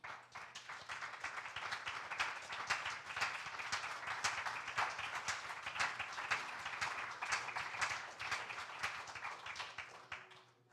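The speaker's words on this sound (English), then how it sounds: "Why don't we stand together and give the Lord a great hand clap?" A church congregation stands and claps hands together, a dense, steady wash of many hands beating continuously for several seconds before tapering off at the end.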